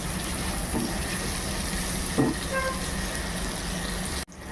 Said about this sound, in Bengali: এবার দিয়ে দেব টমেটো, টমেটোটাও একটু হালকা করে ফ্রাই করে নেব